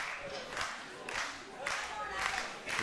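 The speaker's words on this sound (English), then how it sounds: "The crowd are loving this." Wrestling crowd at a WAW Fightmare show clapping and cheering in loud surging waves, with an excited commentator talking over the noise.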